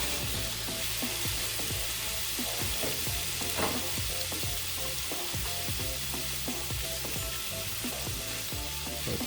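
Large shrimp fry in garlic butter in a hot pan, giving a loud, continuous close-up sizzle dotted with quick crackles and pops.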